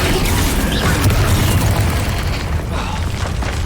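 A spell strike in Hogwarts Legacy combat: a heavy low boom with mechanical rumble and crashing bursts, loud and sustained across the span, fading slightly toward the end.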